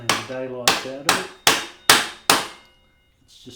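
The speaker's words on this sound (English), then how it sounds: "the rubber hammer is not for pounding the daylights out of it" A rubber hammer gives six sharp, evenly spaced taps on the front wheel axle of a Honda CBR250R MC19 motorcycle, each with a short ringing decay, followed by quiet.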